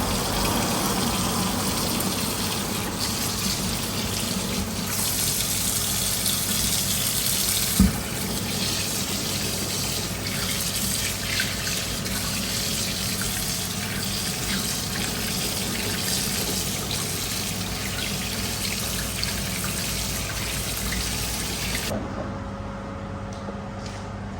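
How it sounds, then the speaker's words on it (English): Kitchen tap water gushes continuously into a sink while a melon is washed with soap, a loud, steady splashing stream that runs almost to the end before cutting off abruptly. "I typically wash my melon with soap and water"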